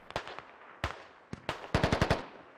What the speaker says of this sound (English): You see the tracers coming out here, and HMG fire returning on them